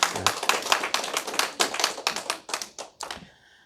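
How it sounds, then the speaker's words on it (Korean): A Baptist church congregation claps during a Sunday sermon, a burst of quick crisp hand claps in a lively uneven rhythm, close and clear, stopping abruptly after a few seconds. "박수 한번 해주시기 바랍니다"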